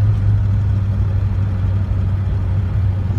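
An old car engine drones low and steady close by in third gear, a heavy rumbling hum with a deep constant tone from engine back pressure, and no talking.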